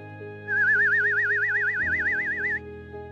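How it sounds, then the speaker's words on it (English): Dorobo people's whistled call to the honeyguide bird, a single close trilling whistle that wavers rapidly up and down in pitch for about two seconds, heard over a soft musical backdrop. "The Dorobo's call to the honey guide has been passed down from generation to generation."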